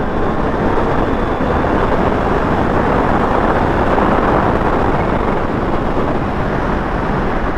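A Kawasaki Ninja H2 motorcycle gets a little throttle on a ride through Claremont, its engine a steady, loud broadband roar heavily buffeted by wind noise across the whole stretch, with no clear rise in revs.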